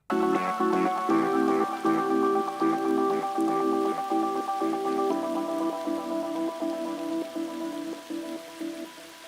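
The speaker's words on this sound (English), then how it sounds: "I bring the rain sounds back in as things kind of die down." A rain sound sample plays during a music stream, soft steady patter beneath a repeating sustained chord pattern that slowly fades.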